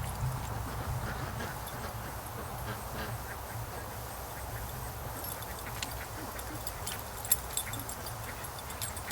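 Free range ducks quack in a yard, a steady, distant chorus under a constant low background hum, with a couple of sharper nearby calls near the end.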